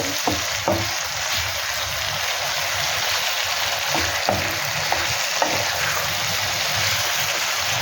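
Chicken with curry leaves frying in a pan over a high flame, a loud, steady sizzle like rushing water, broken now and then by brief scraping stir strokes.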